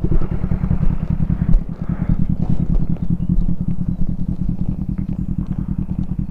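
Kawasaki ER5 motorcycle riding along a coastal road between Cabourg and Trouville, its engine a loud, steady close-up drone with rapid rhythmic pulsing and faint clatter throughout.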